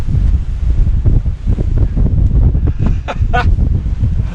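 Strong wind buffets the microphone on a 500-metre rocky summit of Stac Pollaidh in the Scottish Highlands, a loud, continuous low rumble with gusty surges and no talking.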